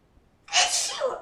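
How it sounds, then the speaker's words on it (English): A single close, loud sneeze bursts out after a brief quiet intake, ending in a breathy trailing sound. "And I'm going to sneeze here"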